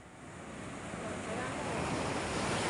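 Sea waves surge up the shore toward a beach cottage, a continuous loud rushing wash of surf that builds steadily, with some wind noise against the microphone.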